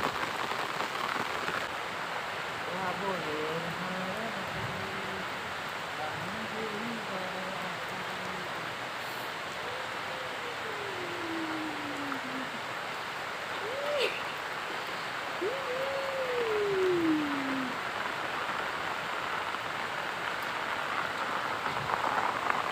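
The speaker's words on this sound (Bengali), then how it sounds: "বৃষ্টিটা হোক, দুপুরের শেষে বৃষ্টি।" Steady afternoon rain falls over a green village home, a continuous hiss throughout, with faint distant voices and bird calls drifting in beneath it.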